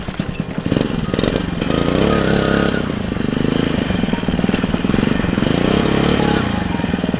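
A motorcycle climbs a steep, eroded trail, its engine pulling hard and steady at close range with a slight rise and fall in pitch as the rider works up the slope.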